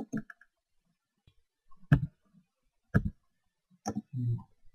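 A few isolated keystrokes on a computer keyboard while entering a command in a Linux terminal, spaced clicks about a second apart, close and fairly quiet against a silent background.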